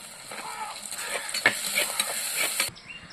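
Shallots and four green chillies frying in oil with mustard seeds, cumin and urad dal for a country-chicken egg dish, with a bright crackling sizzle and a few stirring knocks before it cuts off abruptly.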